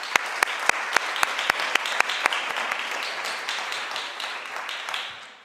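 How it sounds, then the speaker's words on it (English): An audience applauds at a medical school graduate studies welcome ceremony, beginning with sharp, near, evenly spaced claps from a single clapper over a broad wash of crowd clapping that continues and slowly fades. "So let's give you a big round of applause."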